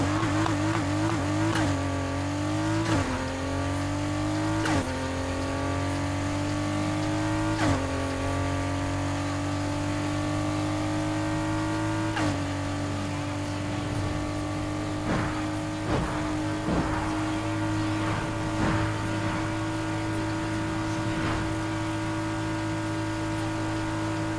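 Blue car with a 2.9-litre V6 accelerating in Need for Speed Heat, its engine note climbing through repeated gear changes with brief dips between shifts, loud and continuous with no talk.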